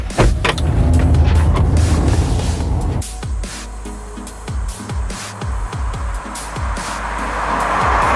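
A 2014 Honda CR-V drives along with a steady engine and road rumble inside the cabin, broken by a series of bumps and thumps from the road surface as the noise swells again toward the end.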